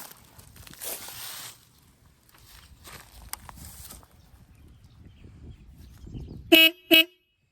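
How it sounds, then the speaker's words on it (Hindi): A Java 42 2.1 motorcycle's dual horn gives two short, loud, sharp honks close by, following several seconds of quiet ambient shuffling. "तो हॉर्न अच्छा खासा है, लाउड है"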